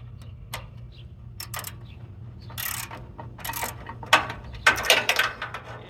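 A ratchet wrench clicks in short, irregular bursts while working on a 1960 GMC truck during restoration, the close, sharp ticks growing busier toward the end over a quiet background hum.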